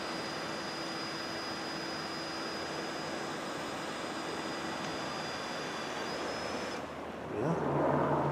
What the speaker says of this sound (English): plane coming in to land at the airport